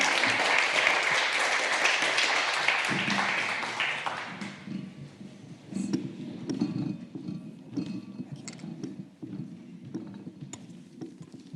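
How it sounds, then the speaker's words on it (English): Conference audience applauding at a Digital Alps event in 2022, dense clapping for about four seconds that then thins out into scattered claps and room noise. "Many thanks. Applause for you."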